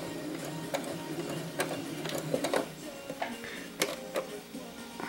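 Sewing machine running a straight stitch with a quarter-inch seam allowance, a steady close mechanical whir broken by quick rhythmic ticks and needle clacks, including a short backstitch.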